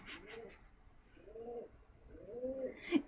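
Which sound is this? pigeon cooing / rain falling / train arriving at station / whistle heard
pigeon cooing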